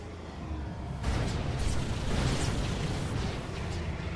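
Rocket explosions in Halo 2 during a tank bombardment, a sudden loud burst of blasts and rumbling debris that continues as a dense roar after a quieter start.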